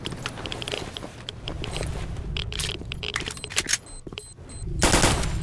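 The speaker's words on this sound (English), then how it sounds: "Oh shit, it's an Uzi!" An Uzi submachine gun fires in STALKER: Shadow of Chernobyl, rapid rattling bursts with short pauses between them, crisp clicks and metallic mechanical noises, and a final heavy burst at close range.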